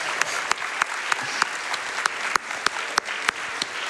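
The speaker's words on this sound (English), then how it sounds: "Please give them a round of applause" A crowd at a live speedrunning charity event applauds, giving dense clapping with sharp individual claps standing out throughout, heard alone and fairly close.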